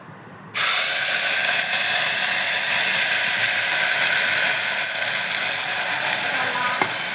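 Ground masala paste for mutton gravy hits hot oil with a sudden loud sizzle that then holds as a steady, close hiss, with no speech.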